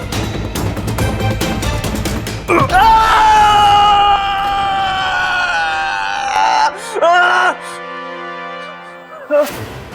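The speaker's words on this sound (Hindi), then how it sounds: "ये तेरे पोते की चीख थी" A boy screams in pain in a Hindi TV serpent-fantasy drama's ransom scene, one long, loud, drawn-out cry followed by a shorter second wail, over a dense dramatic background.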